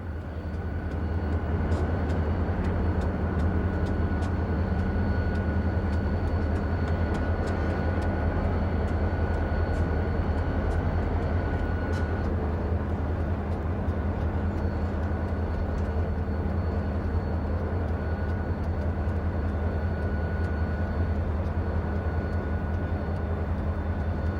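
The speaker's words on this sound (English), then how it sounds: "another train eases up track 2 and will pull up behind the peddler to wait for a signal" A freight train eases along track 2 in Cincinnati, a steady low rumble with clanking and rolling noise holding at moderate distance throughout.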